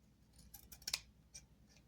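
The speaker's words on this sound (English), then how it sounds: "So I just need to cut this lace" Scissors snip through lace during a Christmas angel decoration craft, giving a few quick, close, crisp cuts in a short burst.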